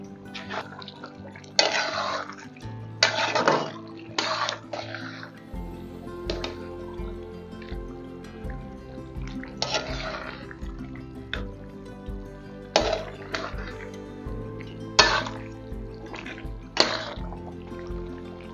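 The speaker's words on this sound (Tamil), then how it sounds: "ஒரு 1/2 கப் அளவுக்கு தண்ணி ஆட் பண்ணிக்கிறேன்" Water poured into a pan of chilli chicken in several short splashing bursts, close by, over soft steady background music.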